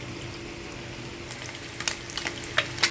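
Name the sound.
food frying in pan for curry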